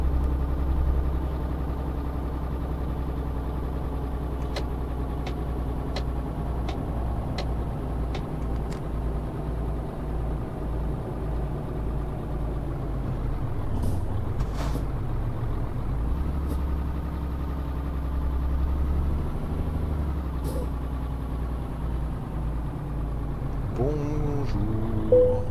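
Steady low engine drone of a DAF truck in a driving video game, rolling through a motorway toll section, with a few faint clicks and a brief air-brake-like hiss near the middle and end.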